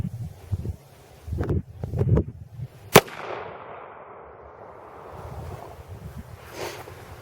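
A single sharp 7.62x25 Tokarev handgun shot is fired outdoors into a soft level IIIA armor panel, cracking loudly and decaying into a brief echo amid wind and faint rustling.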